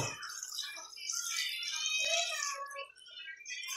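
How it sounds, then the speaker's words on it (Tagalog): Water gushes and splashes into a cooking pot of mussels and squash in a steady stream, close by, with a faint voice murmuring underneath. "dagdagan natin siya ng tubig para may konting sabaw"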